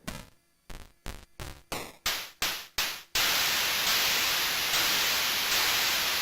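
Synthesizer white noise, first in a series of short, quickening hissing bursts, then a continuous loud, steady hiss.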